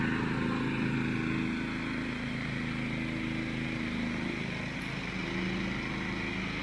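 Homemade Thai ride-on lawn mower cutting grass, a steady droning engine running continuously at a moderate distance with a constant buzzing tone and no voices.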